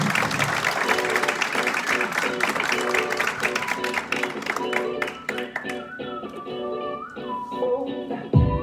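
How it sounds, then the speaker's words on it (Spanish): Audience applause and whistling fill a community gathering in Xela, Guatemala, as a doctor is welcomed to a health talk, with music and voices mixed in and the clapping thinning toward the end. "les quiero, por favor, que le demos un fuerte aplauso"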